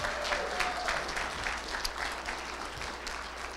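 Audience applause at an entrepreneur event, a steady wash of clapping from a room full of people lasting several seconds, moderately loud, with no voices on top.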